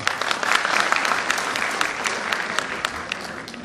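An audience at a school annual function claps, a continuous patter of applause with a few sharper individual claps standing out, moderately loud and holding steady throughout.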